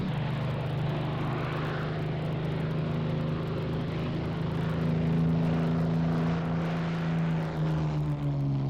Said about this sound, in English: This Merlin powers the Shuttleworth Collection's Supermarine Spitfire 5C, heard here on its first public demonstration